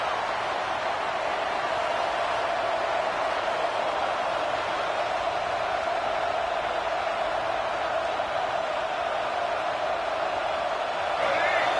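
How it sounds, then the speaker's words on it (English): A dense, steady roar of a large college football stadium crowd fills the whole stretch, loud and unbroken, with no distinct voices standing out. "Listen to the crowd energy here in the early going."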